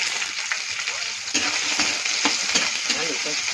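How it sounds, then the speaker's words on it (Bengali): Cut potatoes frying in a pan with cumin and cloves, giving a steady, dense sizzle with scattered crackles and light stirring scrapes close by. "হয়ে গেলে কেটে রাখা আলুটা ছেড়ে দিচ্ছি"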